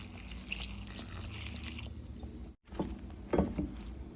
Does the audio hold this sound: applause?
no